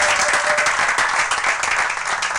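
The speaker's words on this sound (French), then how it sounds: "Acclamez pour la gloire de notre Dieu, de notre Seigneur." Applause from a church congregation, a dense, steady wash of many hands clapping that fills the space evenly and loudly throughout.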